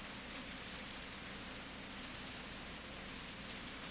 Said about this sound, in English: In less than a minute, the rain turns to a full-on downpour.